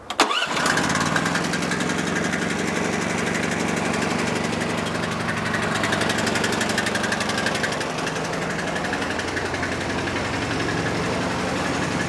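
An Ariens snowblower's Hemi 420cc engine catches on electric key start with a quick crank, then settles into a loud, steady, close-up running drone that continues to the end.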